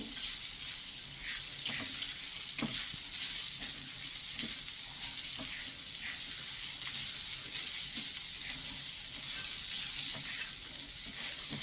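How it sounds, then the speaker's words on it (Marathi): Grated coconut fries over low heat in a pan as it turns pinkish, making a steady, close hiss with soft scraping stirs scattered throughout. "खोबरं गुलाबीसर परतून घेणार मी."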